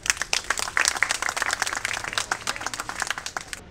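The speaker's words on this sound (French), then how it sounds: "Je demanderai de les applaudir parce qu'ils ont déjà commencé." Children and adults at a school day event applaud a school orchestra, crisp clustered claps in a busy uneven rhythm, close and clear, sustained for a few seconds with no speech.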